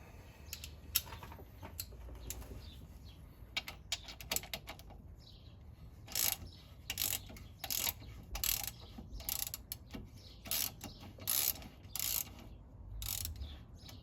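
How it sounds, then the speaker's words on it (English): Ratchet loosening a transmission bolt on a classic Fiat 500, with bursts of quick clicking strokes that come and go, close by over a faint background hum. "Should be able to use a ratchet now on it."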